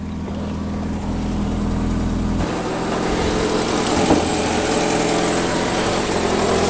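A cold 1948 Ford Prefect E93A engine idles on a little choke, a steady, low mechanical drone rumbling evenly with a slight rise in intensity partway through; no voices.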